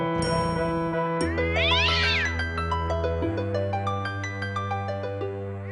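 A cartoon cat meows loudly and close in a children's animation, a drawn-out wavering yowl over sustained musical tones that continue after it.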